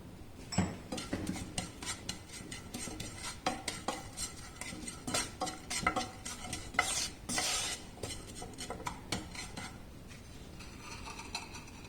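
Chili powder and turmeric dry-roasted in a pan for mango pickle, with a quick run of close metal scraping and clinking from a spoon against the pan over a light, quiet sizzle.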